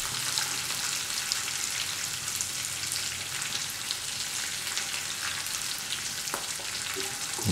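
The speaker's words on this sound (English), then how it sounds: "After the fish has been fried in the oil" Fish frying in oil, a steady close sizzle with a crackling hiss throughout and occasional pops, with no talk.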